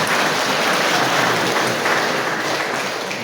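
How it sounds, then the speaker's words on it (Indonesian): Steady applause from a church congregation at a ceremony handing over parish pastor responsibility, a dense and even clapping wash that keeps going for the whole stretch with no pause. "Mari kita berikan tepuk tangan yang meriah Bapak Ibu yang terkasih"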